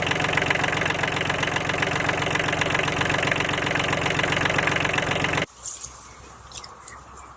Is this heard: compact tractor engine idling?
yes